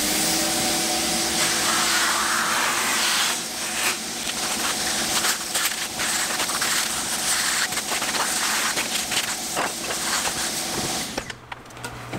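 A shop vac roars steadily up close while it cleans up a woodworking workshop mess, a broad loud whoosh that holds for about eleven seconds and then cuts off near the end.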